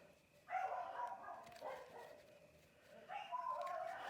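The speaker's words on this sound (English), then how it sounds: "Oh, the dogs are barking." Dogs bark at home in the distance, a few faint muffled yips and barks in short bursts over quiet room noise.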